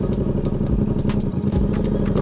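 A Yamaha motorcycle engaging first gear, a running engine's low rumble close by, with mechanical clatter and a few knocks as the gear goes in.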